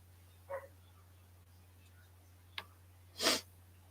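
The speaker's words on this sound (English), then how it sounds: "You guys can probably hear my dog. He's really pissed I left him outside." A dog left outside gives a few muffled, distant barks, spaced irregularly with one louder final burst, over a steady low indoor hum.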